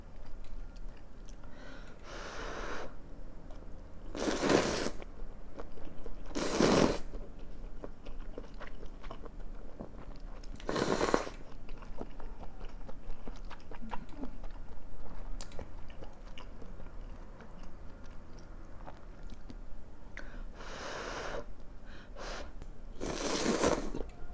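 Someone eats malatang made only with corn noodles, giving close, wet chewing and biting sounds in irregular bursts with quieter pauses between them, and no talk.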